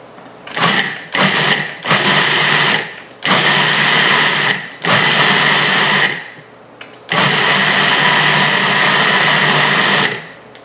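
Jalapenos whir through an electric food grinder in repeated loud bursts, short pulses first and then longer continuous runs separated by brief pauses, close by with no talk.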